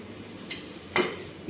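A bowl used for ghee clinks twice against metal dishes in a home kitchen during sandwich-making, two sharp, bright taps about half a second apart over faint background hum.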